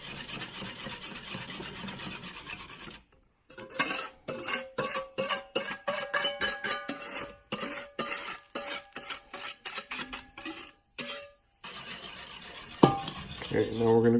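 Metal whisk beating a custard of eggs and hot milk in a pot, a brisk run of rapid scraping, clinking strokes with short pauses, close and fairly loud, ending with a few louder knocks.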